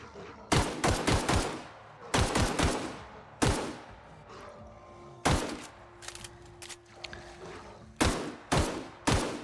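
Assault rifle gunfire in The Outer Worlds, fired in short bursts of two to four sharp shots separated by pauses, loud and close, repeated about seven times with faint ambience in between.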